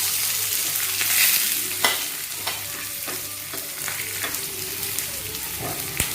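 Chopped onions sizzle steadily in hot oil in a pan for a Kerala pumpkin puli curry, with a spoon scraping and stirring in clear knocks every second or so, close and fairly loud.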